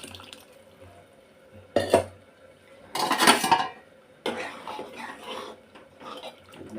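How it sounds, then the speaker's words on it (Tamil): Cooked lentils for sambar are poured into a pot, with clattering metal pot and utensil sounds and a wet, sloshing pour in between, close and moderately loud. "இப்போ இந்த வேக வச்ச பருப்பு நல்லா தூக்கி ஊற்றிக்கணும்."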